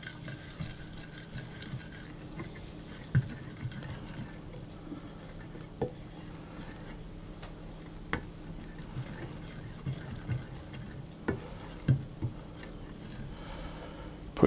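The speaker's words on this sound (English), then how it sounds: "I'll put the flour in, maybe half of it to start with and then the other half, and just mix that around" Flour mixed by hand into Mallorca bread dough in a bowl: continuous soft, wet squelching and stirring with scattered light clicks and taps against the bowl, close and fairly quiet.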